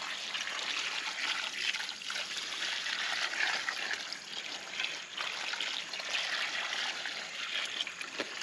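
Water poured steadily around a mailbox post set in Sakrete concrete outdoors, a continuous soft trickling and splashing that stays fairly even for the whole stretch with no voices.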